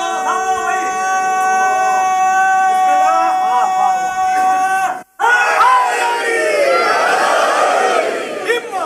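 A crowd at a religious gathering in an imambargah chants slogans loudly. A sustained, toned vocal line comes first, then it cuts out and a massed roar of voices follows, close and forceful.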